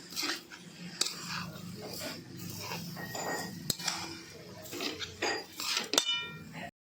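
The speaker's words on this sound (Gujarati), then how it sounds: "હવે તેને મિક્સ કરી લેવાનું છે, જો આ રીતે મિક્સ કરી દઈશું તેને" Kanda poha is stirred in a metal pan, with repeated clinks and scrapes of a spoon against the pan in an irregular rhythm, close and fairly loud, with no voices.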